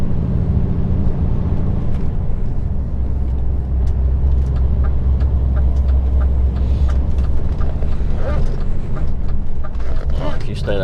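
HGV truck making a right turn on a UK road, a steady low engine rumble with road noise throughout, loud and close, with voices talking over it.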